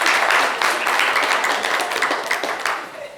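An audience applauds a girl on stage at a televised show, a dense, close burst of clapping that fades toward the end while voices carry faintly underneath.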